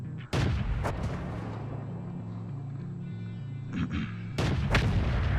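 Tank cannon fire in the World of Tanks video game: two heavy booms near the start and a third blast near the end over a constant engine rumble, loud and close, with no speech.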